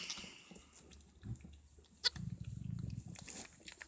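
A goat bleats close by in a shaky, wavering burst lasting about a second, following a quiet stretch with faint farmyard background.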